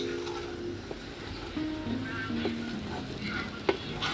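Soaked sabudana (sago) sizzles and fries in a pan while being stirred, a continuous soft crackle with scraping stir sounds and an occasional clink, fairly quiet and close.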